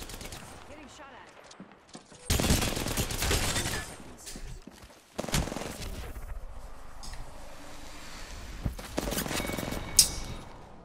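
Gunfire in the battle royale game Apex Legends, with loud bursts of rapid automatic shots and scattered single cracks arriving in clusters, some close and some farther off, over a few seconds of game noise.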